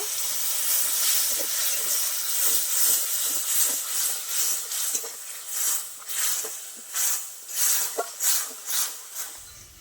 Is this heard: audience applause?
no